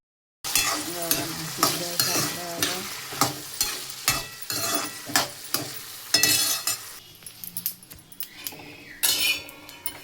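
Peanuts roasting in hot oil as the tempering for a vegetable dish: constant sizzling with repeated metallic scrapes and clinks of a spoon stirring in the pan, close and alone.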